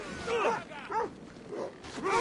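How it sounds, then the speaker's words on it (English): A dog in the video game Assassin's Creed Odyssey yelps and whimpers in several short, whiny bursts, fairly close, amid faint battle ambience. "I just got this dog biting at my ankles here."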